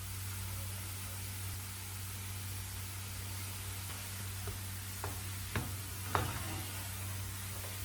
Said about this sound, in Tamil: இந்த மாதிரி நல்லா கலந்து விட்டு உடனே எடுத்துடலாம்.